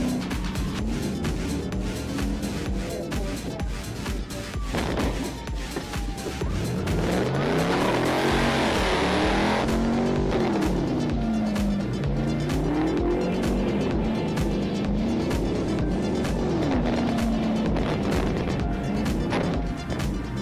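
A fleeing car speeds away from a police chase through city streets, its engine roaring loud and close throughout while tyres squeal and skid in sustained bursts, with the revs rising and falling as it swerves.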